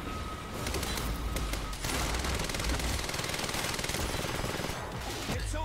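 Rapid, continuous automatic gunfire in the shooter game Quantum Break, dense overlapping bursts that rattle on almost without pause, loud and close throughout.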